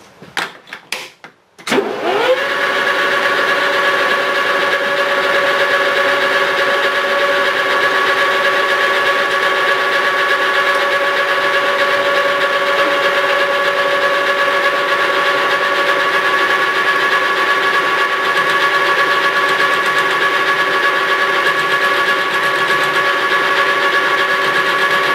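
A lathe skim-cutting a round workpiece: after a few knocks the machine spins up into a loud, steady whine with sustained tones that holds unchanged for over twenty seconds.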